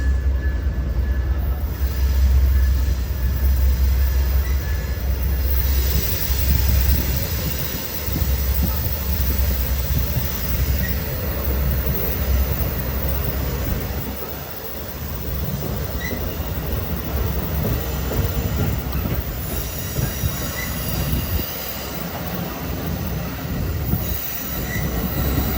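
Amtrak's northbound Crescent, number 20, pulls out of Greensboro, North Carolina station: loud rolling railcars, squealing wheels and rhythmic clickety-clack for over twenty seconds, fading briefly midway before more cars rumble past.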